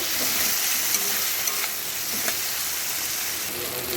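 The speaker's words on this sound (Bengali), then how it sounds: "এই সময় দিয়ে দিচ্ছি টমেটো আর কাঁচা লঙ্কা কুচি তেলের মধ্যে একটু ভালো করে একটু ভেজে নেব" Chopped tomato and green chili fry in hot oil, giving a steady loud sizzle with a few soft stirring clicks and no talk.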